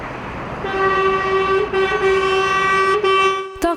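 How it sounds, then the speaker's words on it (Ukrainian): Trucks and cars honking at a carriers' protest outside the Polish Consulate General in Lutsk: a loud, sustained blare of horns held almost continuously, with a few brief breaks and a quiet start. "Сигналять не тільки фури, а й легкові авто"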